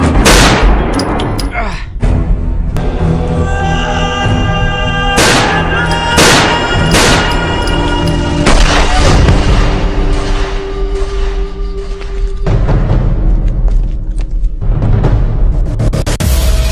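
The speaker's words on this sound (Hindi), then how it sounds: "राज, इसके पैर पे इतनी गोलियां मारो कि अगले 7 जन्म तक लंगड़ा पैदा हो" Gunshots aimed at a man's leg in a Hindi gangster film crack out loud and close, rapid bursts and single blasts spread over a dense, roaring film soundtrack with pauses between volleys.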